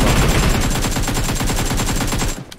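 Rapid automatic gunfire in the PUBG Mobile battle royale game, a loud, fast, evenly spaced burst of shots running continuously for over two seconds before cutting off abruptly.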